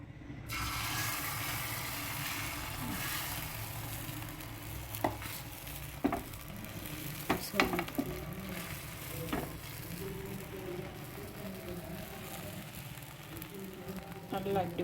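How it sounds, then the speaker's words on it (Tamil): Omelette mix of egg with tomato, onion, green chili and spices is poured onto a hot pan and spread, giving a steady broad sizzle with occasional clicks of a utensil, close and continuous. "நல்லா இப்படி ஊற்றி நல்லா ஸ்ப்ரெட் பண்ணி விட்டுக்கோங்க."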